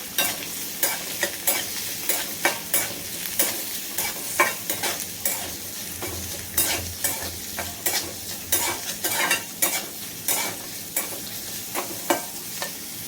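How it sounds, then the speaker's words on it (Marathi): Finely chopped onion frying in a pan for a prawn masala, a continuous sizzle broken by regular, rhythmic scrapes and taps of a stirring spoon, close and fairly loud, with no voices. "त्यानंतर बारीक चिरलेला कांदा फ्राय करून घेते"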